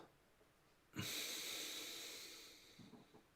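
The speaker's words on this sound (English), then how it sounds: "So deep inhales through the nose." One deep, slow inhale drawn through the nose makes a soft, airy hiss that starts abruptly, holds for nearly two seconds and then fades. The breath is close and quiet, and a faint rustle follows.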